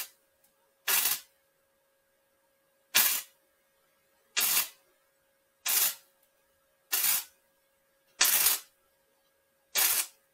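Short bursts of MIG welding on the sheet-steel cab roof of a Ford F1 during a top chop, seven separate hissing, crackling tacks of about half a second each, spaced roughly evenly with silence between, close and fairly loud.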